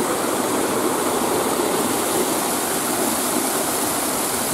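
Water rushing steadily over small rapids at the Antoniów reservoir in Radoszyce, Poland, a continuous broadband roar like a stream or small waterfall, loud and close, with no talk over it.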